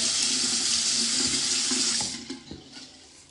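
Water runs steadily from a tap while hair is wetted during a deep-conditioning treatment. It is a close, soft hiss that fades and breaks into a few drips and splashes as it stops.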